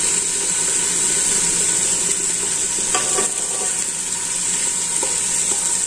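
Steady, close sizzling and crackling of Tuscan sausage frying without oil in a hot pressure cooker, with a few light clinks of a utensil against the pot.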